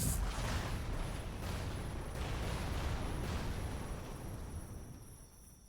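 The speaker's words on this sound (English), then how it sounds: "Fire the cannons." Cannons fire in the video game Chained Echoes, a dense booming burst that rolls and slowly fades over a few seconds, loud and without talk.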